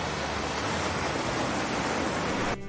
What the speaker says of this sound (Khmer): ដើរនិងស្ដាប់រលកសមុទ្រ